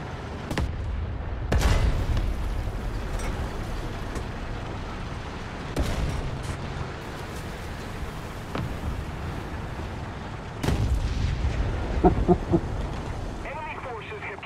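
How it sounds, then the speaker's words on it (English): Tank cannon fire in War Thunder, on PS5: several heavy booms spread across the clip, each a broad blast with a rumbling tail, over steady engine and battlefield noise, with a few small clicks near the end. "I start shooting trees."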